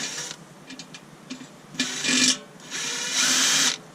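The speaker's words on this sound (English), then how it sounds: "It's the drill bit." An electric drill whirs in short bursts, then runs in two longer steady stretches while making a hole for a screw during a small furnace build, close and fairly loud.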